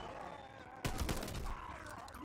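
A semi-automatic gun fires in a zombie video game, a burst of loud close shots after a quieter stretch, then fading, with background game noise.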